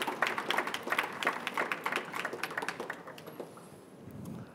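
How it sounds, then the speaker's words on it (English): Audience applause for a guest speaker at an artist talk on performance, a dense wash of many hands clapping at close range, steady and then tapering off toward the end. "Please give him a warm applause for his tight schedule"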